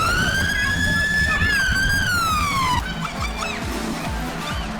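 A police car siren wails loud and close during a street chase, its rising and falling tone sweeping steadily and then shifting to a faster warble over constant traffic noise.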